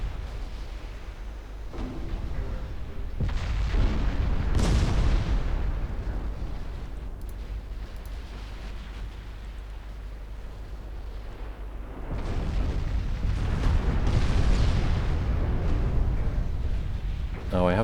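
Secondary guns of a warship thunder during a close-range naval battle in a 1947 Norwegian campaign game, heavy booming blasts and rumbling explosions rolling one after another, loud and sustained, with a voice talking over the gunfire.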